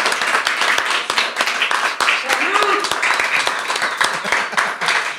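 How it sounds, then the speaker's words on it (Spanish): Applause from a live audience at a Colombian music podcast taping, clapping steadily and densely for the whole stretch with voices mixed in underneath. "Un aplauso, gracias, por favor, por Inri."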